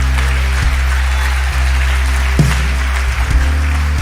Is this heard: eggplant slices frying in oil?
no